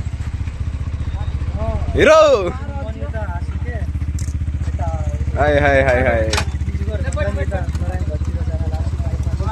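A motorcycle engine runs steadily throughout, a low continuous drone close by, while people shout and call out loudly over it, with two louder bursts of voices.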